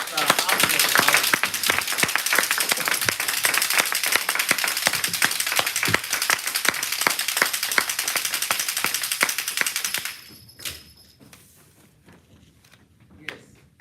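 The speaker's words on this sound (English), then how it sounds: "With the resounding applause, let's welcome Master Alfred." Sustained applause from an audience at a Toastmasters club meeting welcoming a speaker, many dense overlapping claps for about ten seconds before stopping abruptly into a quiet room.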